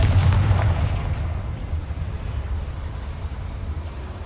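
A Confringo spell blast in Hogwarts Legacy, a deep booming explosion with a strong low rumble at the start that fades into a lingering roar.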